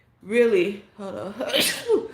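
A single sharp sneeze bursts out close to the microphone, sandwiched between bits of a person's talking.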